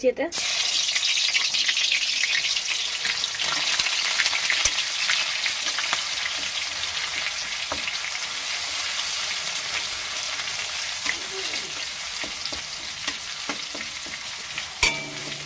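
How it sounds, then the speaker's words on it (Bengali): Garlic fries in hot oil in a pan, a continuous close hiss and sizzle with occasional scrapes and stirring taps throughout. "এতে রসুনটা একটু ভেজে নিচ্ছি"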